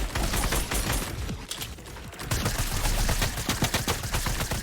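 Assault rifle gunfire in a shooter video game, rapid bursts of crackling automatic shots close up, with a brief pause before a longer fast volley.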